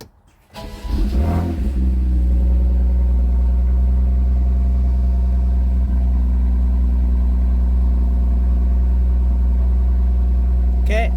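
A 2018 BMW M2 being rebuilt after crash damage cranks and fires up, then settles into a loud, steady, close running drone that holds unchanged to the end.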